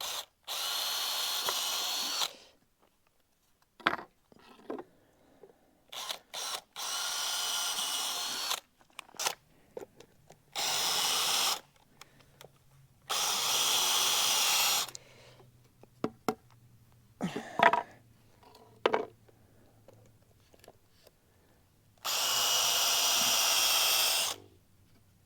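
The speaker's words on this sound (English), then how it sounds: "drill out a hole here and drill out a hole here and get this screwed to the wall" A power drill boring pilot holes through drywall into a wall beam, running in several loud bursts of a few seconds each, separated by quiet gaps with faint handling noises and a low hum.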